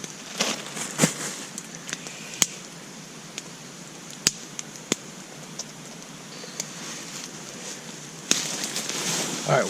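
A campfire crackles outdoors beside a trout stream, scattered sharp pops and snaps over a low steady burn, close by, with no talking.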